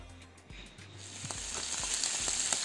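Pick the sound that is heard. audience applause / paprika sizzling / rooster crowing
paprika sizzling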